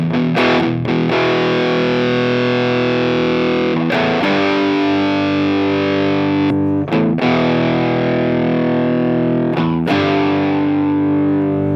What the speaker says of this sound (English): a little woollier and fuzzier in the bottom end with the crossover bypass.